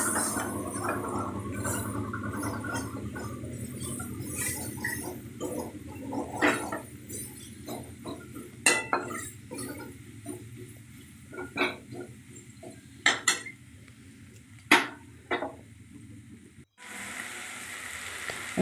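Chicken with turmeric and salt is stirred in a pan, a low sizzle giving way to scattered scraping and clicking strokes of a utensil, fairly close and moderately quiet, ending in a short burst of louder hiss.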